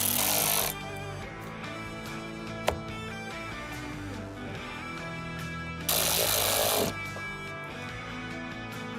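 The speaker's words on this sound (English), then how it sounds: "I'm just gonna reinstall the 2 screws on the base of the sun visor" Two screws are driven back into the sun visor base inside a 2008-2016 Ford Super Duty cab. Two short, loud bursts of a power driver rise over a steady background hum, with no one speaking.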